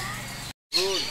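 Pair of parakeets at the Parque das Aves bird park in Foz do Iguaçu giving short, bright chirps and tweets, brief and fairly near, mixed with people talking nearby.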